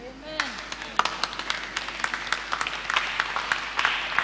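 A church congregation claps in scattered, uneven bursts, individual sharp claps rising into a quicker rhythm over a few seconds, fairly close and moderately loud.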